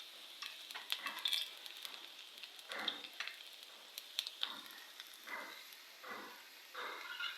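Garlic crackles and sizzles in hot oil for a dal tadka, a soft, close frying hiss broken by bursts of spattering and the occasional scrape of stirring.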